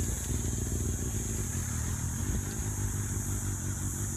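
A ZX6 motorcycle engine built into a dirtbike runs loudly and steadily up close, its idle thick with mechanical rattling and clatter from loose parts.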